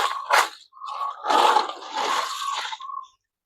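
Water from an aquarium filter spills over and falls into an overflow pipe, a close splashing, gurgling flow that surges and fades in bursts for about three seconds before stopping.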